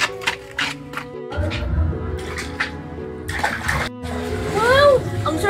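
Water splashing and sloshing in a small backyard swimming pool, mixed with a voice and playful chatter, with bursts of splashing growing busier toward the end.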